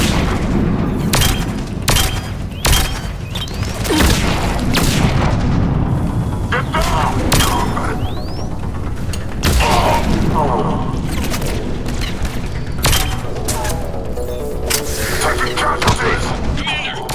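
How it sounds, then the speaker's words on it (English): Mortar fire in the Mass Effect 3 video game booms again and again, heavy explosions and gunfire bursting at irregular intervals across a loud battlefield, with a voice speaking between the blasts. "Commander, we're getting a lot of mortar fire."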